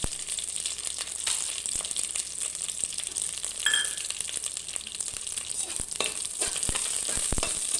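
Mint and biryani masala fry in hot oil and ghee for mutton biryani, giving a steady, close sizzle with occasional light clinks and stirring knocks from the pan.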